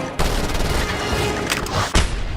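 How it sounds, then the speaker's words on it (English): Explosions in the video game Just Cause 2, loud booming blasts in rapid succession forming a dense, continuous barrage with a couple of sharper bursts near the end. "The explosions certainly look as good as they sound, don't they?"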